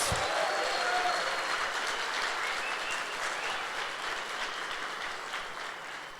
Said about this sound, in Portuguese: Dá aí um aplauso a Jesus.